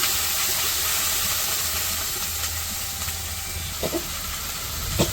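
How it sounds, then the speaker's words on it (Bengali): Ginger-garlic paste sizzling among fried onion in a pan, a steady hissing fry with a few soft stirring knocks toward the end, no speech. "অল্প আদা রসুন বাটা দিয়ে দিলাম"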